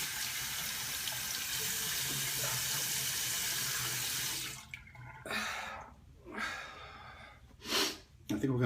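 Running tap water rinses alum off freshly shaved skin during a 1970s-style wet shave, a steady close rush for about four seconds that then breaks into short intermittent splashes with soft breathing between.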